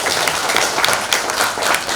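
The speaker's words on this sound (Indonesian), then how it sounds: "tepuk tangan untuk semua rekan-rekan panitia yang telah berjuang keras melaksanakan milad ini" Applause for the organizing committee at an anniversary (milad) event of a legal aid institute in East Java, a dense crowd clapping steadily and fairly close throughout, with no talk heard.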